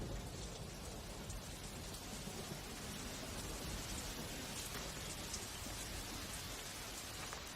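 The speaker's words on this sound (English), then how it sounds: "The monsoon rain feeds the tropical flora and fauna." Steady monsoon rain pours in a tropical forest, a dense unbroken hiss of drops on leaves and ground, with a faint low rumble of distant thunder underneath.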